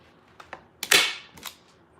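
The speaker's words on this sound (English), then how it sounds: "So you need a staple gun, right?" A staple gun fires once with a sharp, loud snap, set among a few lighter clicks and taps of handling before and after, with no voices.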